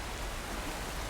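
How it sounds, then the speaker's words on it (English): Steady rain falls in the video game Horizon Forbidden West, an even, continuous hiss of drops with no breaks and no voices. "How long is this rain gonna last?"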